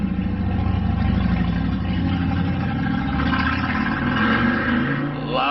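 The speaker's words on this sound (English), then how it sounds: "Loud motorcycles. Boy, we got a lot of them today." Loud motorcycle engines roar steadily outside on a day of changed weather, a continuous rumbling drone that swells slightly near the end as bikes pass, with no talking over it.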